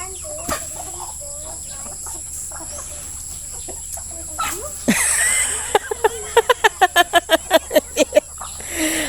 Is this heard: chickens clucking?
yes